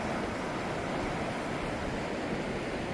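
Rushing white water of the Beas river rapids in Kullu Manali, a loud, dense, unbroken roar of turbulent water close by, steady and unvarying, with no voices.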